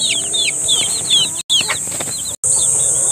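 Muscovy ducks and chickens on a backyard farm make a busy run of high chirps and clucks with some wing flaps, close and loud, with two very brief dropouts.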